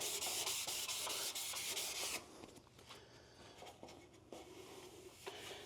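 Hand sanding an aluminum C10 truck grill with 800 grit sandpaper, a fast continuous rasping scrub for two seconds, then softer intermittent strokes, close and fairly quiet.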